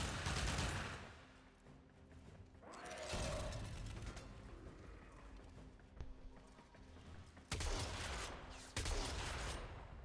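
Gunfire in the game Warframe comes as bursts of rapid, sharp shots that start and stop in loud clusters, close and dense, with quieter gaps between volleys and no talk.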